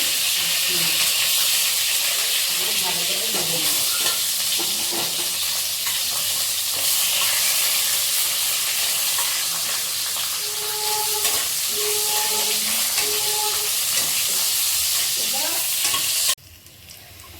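Steady, loud sizzling of bay leaves and dried red chillies frying in hot oil in a wok, with occasional stirring clatter, continuing unbroken until it drops off abruptly near the end.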